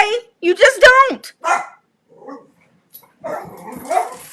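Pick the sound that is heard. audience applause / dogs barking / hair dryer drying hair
dogs barking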